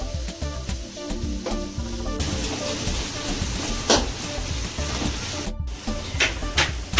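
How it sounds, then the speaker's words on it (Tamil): Onions deep fry in hot oil with a loud, constant sizzle and hiss, heard close, with a few sharper crackles and pops. "நல்லா டீப் ஃப்ரை பண்ணணும் வெங்காயத்தை."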